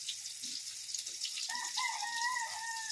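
Live chickens near a home kitchen cluck in soft, scattered bursts, then a rooster lets out a long, drawn crow. The birds are moderately close and sound alone over a steady background hiss.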